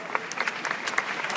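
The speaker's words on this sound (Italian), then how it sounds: "facciamo un applauso a tutte e due" An audience applauds at the Miss Italia 2016 final in Jesolo, a brief burst of dense clapping from a crowd with quick, irregular hand claps and no voices over it.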